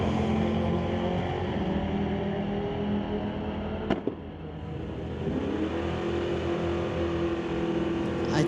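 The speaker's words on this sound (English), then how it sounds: "Steve Terracento in the 1985 Porsche, going against Brad Bloomfield from Kamloops in that 78 Pontiac." A 1985 Porsche and a 1978 Pontiac drag race on a street-legal drag strip, their engines a loud, steady roar throughout with a brief sharp burst near the middle.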